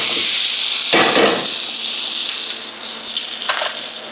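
An eggplant omelette sizzles and fries in a pan, a loud bright crackling hiss that flares up briefly near the start and then settles into a steady sizzle.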